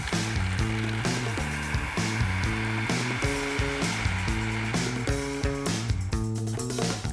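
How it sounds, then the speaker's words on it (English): A blender grinds macadamia nuts with a little macadamia oil into nut butter, a loud, continuous motor whir that keeps changing pitch as the thick mixture churns, with no talking. "I'm going to start to blend this until all the nuts start to break down and release their oils."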